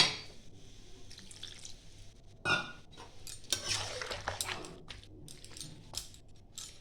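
Water is poured into cabbage chorchori cooking in a pan, with clinks of a bowl and utensil and soft splashes and stirring scrapes, moderately close and fairly quiet.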